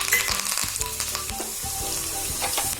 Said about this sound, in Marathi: मोहरी तडतडली की आपण त्याच्यात मिरची घालणार आहोत